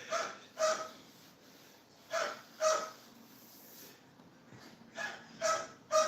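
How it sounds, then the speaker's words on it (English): A dog barks in short pairs and triples, several sharp barks spaced a second or two apart at moderate loudness, with quiet gaps between them. "so I'm just going to let the dog bark right now."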